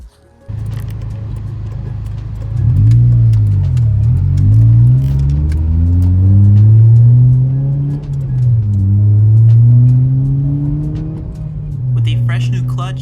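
An 8th-gen 2006–2011 Honda Civic with a new clutch and repaired clutch pedal drives off, its engine droning close and steady, rising and falling in pitch through several gear changes.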